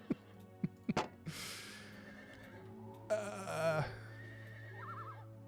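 Horse neighing in the video game Sacred Gold: a loud, drawn-out whinny after a few sharp knocks, then a shorter snorting neigh, with faint game music underneath.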